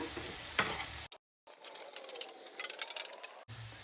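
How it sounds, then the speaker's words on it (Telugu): Semolina (rava) being roasted in a pan for upma, producing soft sizzling and scraping stirs at close range, briefly cut by a gap of silence, with no voices. "ఇక్కడ రవ్వ కూడా వేయించుతా ఉన్నా."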